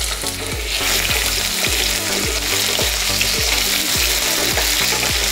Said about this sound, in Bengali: আলুটাও ঠিক 2 মিনিট ভেজে নেওয়ার পরে এরই মধ্যে দিয়ে দেবো আমি মিষ্টি আলু।